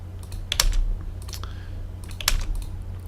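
Keys clatter on a computer keyboard while commands are entered in AutoCAD, two short bursts of quick taps close to the mic, separated by a pause, over a low steady hum.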